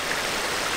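Fast water rushes steadily down the spillway of a lagoon, a dense, even hiss of flowing current heard up close with no voices over it.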